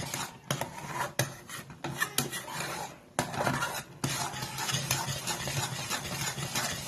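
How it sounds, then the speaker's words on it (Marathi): A thickening danedar barfi mixture is stirred steadily in a pan, giving repeated scraping and rubbing strokes with occasional metallic clinks of the spoon against the pan, close and moderately loud, with no talk. "हे चांगला आता घट्ट करायचं, एकसारखं हलवत राहायचं."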